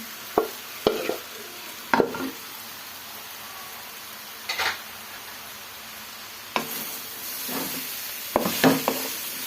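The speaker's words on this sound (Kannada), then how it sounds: "ಸೇರಿಸ್ಕೊಂಡು ಚೆನ್ನಾಗಿ ಮಿಕ್ಸ್ ಮಾಡ್ಕೊಳ್ಳೋಣ" A spoon stirs and scrapes sheep blood fry in a pan in intermittent strokes, with a faint sizzle underneath between the scrapes.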